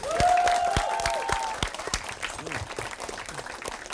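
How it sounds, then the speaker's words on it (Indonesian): Studio audience applause on an Indonesian TV talk show, sharp separate claps over a tonal music sting at first, then thinning into scattered clapping. "Oke, tepuk tangan dong."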